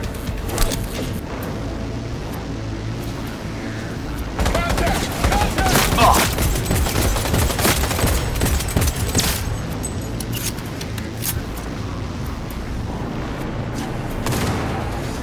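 Heavy gunfire in the video game Cyberpunk 2077: sustained rapid bursts and booming shots, loud and dense for the whole stretch, with shouted voices mixed in.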